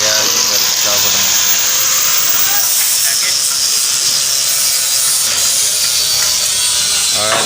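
Angle grinder running continuously during repair of a thresher machine, a loud steady high-pitched hiss and whine filling the whole stretch, with voices talking underneath.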